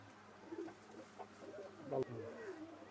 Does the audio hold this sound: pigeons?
yes